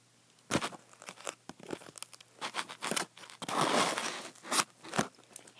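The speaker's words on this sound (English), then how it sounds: "I'm almost done cutting." Scissors snipping and tearing through packing tape on a doll's cardboard package box, a string of irregular crinkly rips and crunches with a longer tearing stretch in the middle, close up and with no talk.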